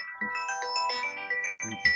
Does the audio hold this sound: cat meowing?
no